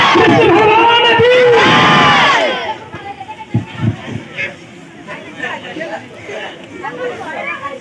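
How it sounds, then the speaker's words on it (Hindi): A crowd of people at a public gathering cheers loudly for a couple of seconds with shouts and whoops, then the noise drops to scattered chatter and murmuring voices. "एक बार जोरदार ताली दे दीजिए आप लोग।"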